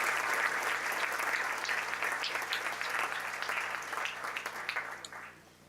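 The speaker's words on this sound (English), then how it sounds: "please join me in giving them a round of applause for their contribution to our ag community." An audience at the 2018 Mid-Columbia Ag Hall of Fame event applauds, a dense, steady wash of clapping that holds for several seconds and gradually thins toward the end.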